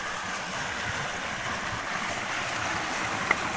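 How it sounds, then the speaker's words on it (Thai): Water spills over a flooded rice paddy dike in the rural countryside, a steady close rushing and gurgling wash that holds evenly throughout, with no talking. "น้ำไหลนี่"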